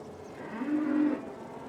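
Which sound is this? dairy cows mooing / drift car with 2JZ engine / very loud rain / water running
dairy cows mooing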